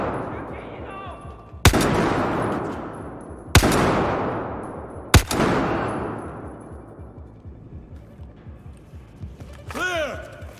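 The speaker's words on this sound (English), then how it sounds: "Shooting!" Three sharp, loud gunshots from in-game weapons in Battlefield 4, spaced about two seconds apart, each leaving a long ringing decay, followed by quieter background noise and a brief tonal chirp near the end.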